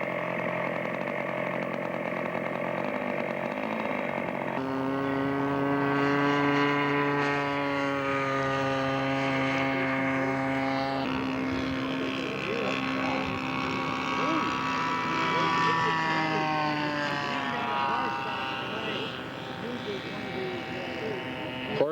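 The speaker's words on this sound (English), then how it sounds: "Just taking off from the Bombay biplane is Charlie Nelson." A model biplane engine drones at a scale aircraft show during takeoff, a sustained buzzing whine that rises and shifts in pitch while an announcer's amplified commentary runs over it.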